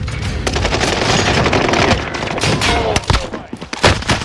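Rapid bursts of video game gunfire crackle densely for several seconds, then break into scattered separate shots, loud and close, with no talk over them.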